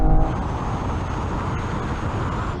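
New and old BMW M4 cars accelerating hard side by side in a straight-line drag race, a loud, steady engine roar with wind and road rumble throughout, no speech.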